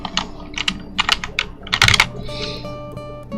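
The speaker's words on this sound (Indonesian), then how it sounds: "teman bisa ketikkan seperti ini" Fast, close keystrokes on a computer keyboard, entering text into a website form, with a steady hum and a faint tone behind the crisp clicks.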